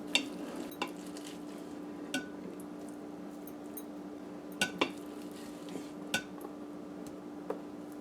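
Cooked cook-up rice is scooped from an Instant Pot into a bowl: a handful of spaced scraping clinks of a spoon against metal and ceramic over a low steady hum, faint and close, no talking.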